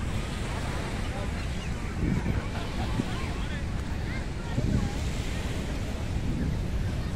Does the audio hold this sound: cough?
no